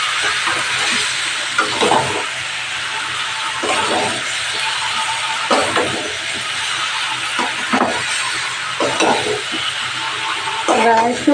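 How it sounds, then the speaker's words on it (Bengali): Chicken with young jackfruit, turmeric and salt is stir-fried in a pan: a steady hissing sizzle runs throughout, broken by repeated scraping strokes of the spatula at an even rhythm. "এবার একটু ভালো করে কষিয়ে নেব।"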